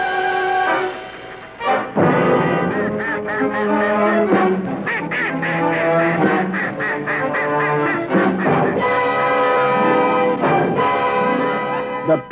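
A panicking duck, hunted by a puma in the Rupununi, quacks loudly and repeatedly in rapid, ragged bursts that barely pause for about twelve seconds.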